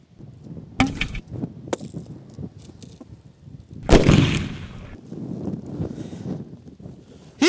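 A TAG-ML36 HPA launcher fires outdoors in extreme cold around -21°C, with two sharp loud pneumatic bursts, the second heavier with a rushing tail, plus faint clicks and handling noise between them.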